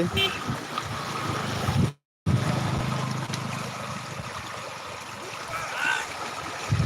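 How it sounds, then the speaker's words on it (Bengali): Floodwater from heavy rain rushes steadily out in a continuous broadband wash, close and fairly loud, with a brief dropout of silence partway through. "দেখুন জল কেমন বেরোচ্ছে"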